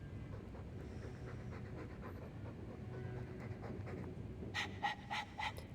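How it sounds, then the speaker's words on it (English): A dog in the video game Dragon Age 2 pants steadily in quick, rhythmic breaths, close and fairly quiet, with a few brighter chiming game sounds near the end. "All that noisy dog breath, day in, day out."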